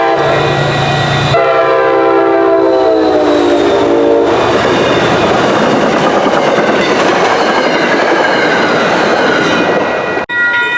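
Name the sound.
MBTA Worcester Line commuter train passing at Parmenter Road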